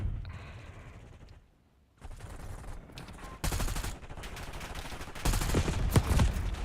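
Rapid bursts of gunfire from a shooter video game crackle in close, dense volleys, a brief lull near the start, then sustained automatic fire growing louder toward the end.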